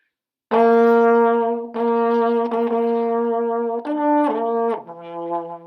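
A trombone plays several sustained notes with a full, brassy tone, stepping down in pitch near the end, loud and close with no talking.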